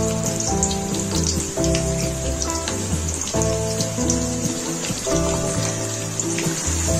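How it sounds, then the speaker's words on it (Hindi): Finely chopped medium onions sizzling in hot oil for black chana salan, a close, steady crackling hiss with dense popping spatters that runs continuously and without voices. "प्याज को हमें बहुत अच्छे से फ्राई कर लेना है।"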